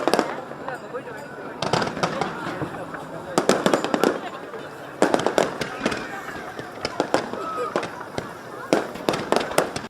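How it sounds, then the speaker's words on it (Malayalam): Fireworks burst over Dubai Creek during the Dubai Shopping Festival: loud clusters of crackling explosions arrive in irregular volleys, some overlapping, with a constant outdoor background between the bursts. "കണ്ണഞ്ചിപ്പിക്കുന്ന വെടിക്കെട്ടുകൾ ഇപ്പോഴും തുടരുന്ന ക്രീക്കിലെ കാഴ്ച സന്ദർശകർക്ക് ആനന്ദം പകരുന്നതാണ്"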